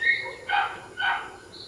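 A dog gives three short, sharp yipping barks spaced evenly over a low background hum, moderately close.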